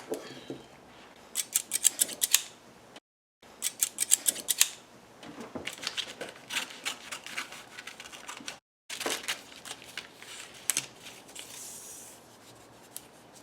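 Scissors snip and slice through fabric in close, crisp bursts of repeated cuts, broken by two brief silent pauses, with no talking.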